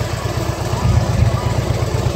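A 2011 Harley-Davidson Electra Glide Ultra Limited with a 103 engine and 6-speed transmission idles nearby with a low, loping rumble while someone talks over it.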